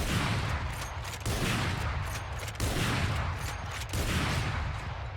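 Rapid, continuous sniper and shotgun fire in the shooter game Valorant, loud close shots in quick succession with heavy booming reports and no talking.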